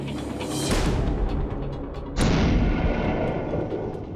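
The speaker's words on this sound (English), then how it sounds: "This is an amazing cannon. It packs a lot of punch for its size." Two deep, booming blasts from a small cannon firing a bowling ball, a little over a second apart, each loud and close with a rumbling tail.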